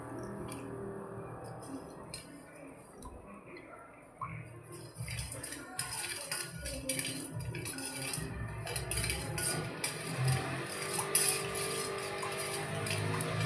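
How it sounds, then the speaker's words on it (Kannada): A metal spoon clinks and scrapes steadily inside a glass while stirring sugar into lemon juice for homemade lime juice, with light, repeated chinks that grow busier and louder over several seconds. "ಸ್ಪೂನ್ ಆಡಿಸ್ತಾ ಇರೋಣ"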